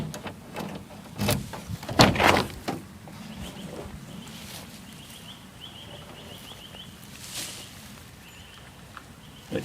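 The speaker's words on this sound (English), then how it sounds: "And we'll open up this door." A door on a Mitsubishi Rosa bus is opened, giving a few close mechanical clunks and a rattling slide near the two-second mark, followed by a quieter outdoor background with faint birds.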